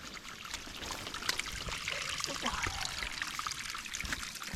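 Water trickles and splashes steadily outdoors from a stream on the Appalachian Trail, a close, continuous babbling flow with faint broadband hiss.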